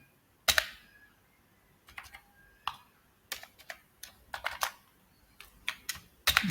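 Computer keyboard typed while entering a Google Sheets array formula: close, crisp key clicks in small irregular bursts separated by brief pauses, with a sharper clack at the start and end.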